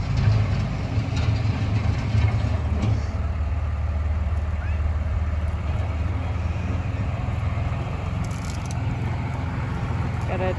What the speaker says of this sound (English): And now, here we go. It's tilling time.